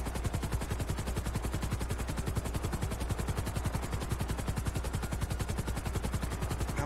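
A police helicopter in a video game roleplay gives a steady, rapid rotor chop that pulses evenly throughout, fairly loud and unbroken, with no voices over it.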